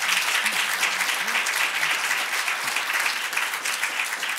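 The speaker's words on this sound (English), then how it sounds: "let's give a hand of applause to our panelists." Steady applause from a conference audience thanking the panelists at SETICon, a dense unbroken patter of clapping with a few faint voices underneath, holding even throughout.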